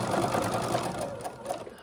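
A sewing machine runs steadily as it stitches a fabric band for a garment, with a continuous close whirring and needle chatter and no voices.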